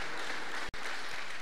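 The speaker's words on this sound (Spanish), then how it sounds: "Si le va a aplaudir, apláudale al Señor" A church congregation applauds during a sermon, a brief, even burst of many hands clapping with a momentary cutout partway through.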